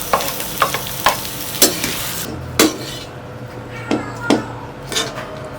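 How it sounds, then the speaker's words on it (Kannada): Onions frying and being stirred in a pan, with a steady loud sizzle and repeated sharp clinks and scrapes of a spoon against the pan at an irregular rhythm, close up, no talking. "ನಾವು ಸ್ವಲ್ಪ ನೀರುಳ್ಳಿ ಹಾಕ್ತೇವೆ ಫ್ರೈ ಮಾಡ್ಲಿಕ್ಕೆ"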